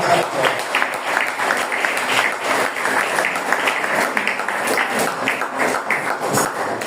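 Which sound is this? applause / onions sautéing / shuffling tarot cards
applause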